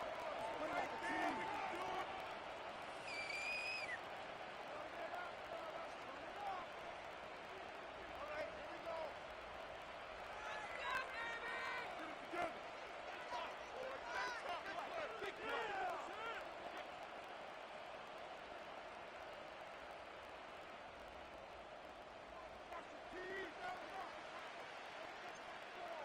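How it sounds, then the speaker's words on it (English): Stadium crowd noise in Madden, set at the Buffalo game in Orchard Park, New York: a steady, loud roar of murmuring and cheering that carries through the whole stretch, with a few brighter bursts standing out. "this crowd is loud and this crowd is ready for a ball game"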